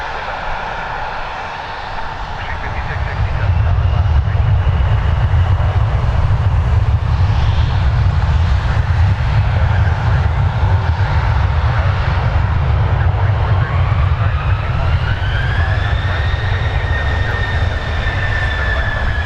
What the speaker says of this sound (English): Piedmont 5886 to Philadelphia. Embraer ERJ 145 LR.